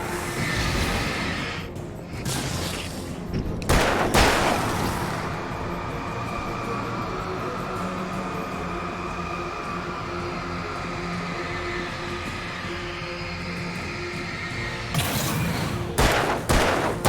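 Gunshots crack in Alan Wake: a few sharp, loud reports at the start, then a long stretch of steady background rumble, and another cluster of close shots near the end.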